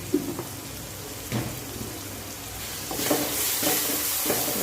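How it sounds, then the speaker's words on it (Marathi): Masala with coriander powder frying in a pan for a dry kurdai vegetable dish, a steady soft sizzle with a few scraping stirs of a spatula, close and fairly quiet. "छान असा मस्त फ्राय होते आता तर बघा छान असा मसाला फ्राय झाला आहे"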